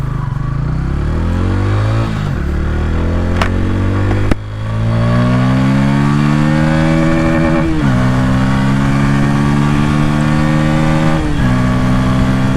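A 2025 Bajaj Pulsar N160 motorcycle exhaust revving up repeatedly, loud and close, a booming engine note that climbs and drops between throttle blips, with no talking.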